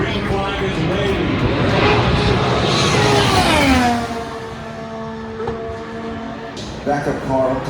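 An IndyCar backup car at racing speed on the Indianapolis Motor Speedway oval, its engine a loud sustained whine that sweeps down in pitch as it passes, with crowd and track noise around it.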